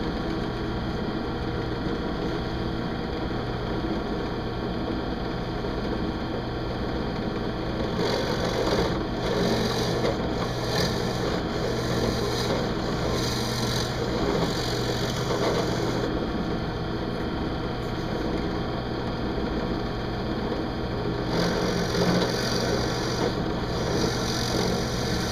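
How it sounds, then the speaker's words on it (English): An electric drill bores several holes through wood ahead of jigsaw cuts while making a truncheon, a steady close motor whine with repeated bursts of rougher grinding as the bit bites in. "I'm putting multiple holes just so it's easier for the jigsaw to cut through."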